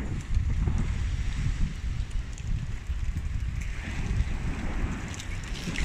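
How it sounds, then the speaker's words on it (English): Sea waves wash and splash against a sea wall by a pebbled promenade, a continuous rough roar mixed with gusting wind buffeting the microphone. "we're by the sea wall, where the sea is actually splashing up every now and again"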